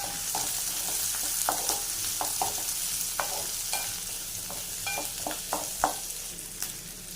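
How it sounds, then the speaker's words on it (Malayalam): Two dried red chillies sauté in hot oil in a pan for a brinjal curry, giving a steady close sizzle broken by frequent scraping stirs and utensil taps, with no talking. "2 വട്ടൽമുളക് കൂടെ ചേർത്ത് ഇതിന് ജസ്റ്റ് ഒന്ന് വഴറ്റാം"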